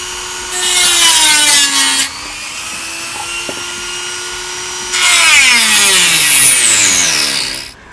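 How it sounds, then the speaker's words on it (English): A Dremel rotary tool cuts into a 3D printed plastic Ghostbusters proton pack part in two loud high-pitched bursts, with a quieter whirring motor between them. "So I'm going to take my Dremel and just start cutting that."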